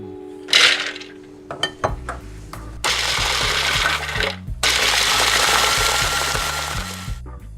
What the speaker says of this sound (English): I'm going to crush these together in my food processor.